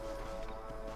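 A horse's hooves clop in Red Dead Redemption, a quick run of muffled beats set under a constant droning game ambience.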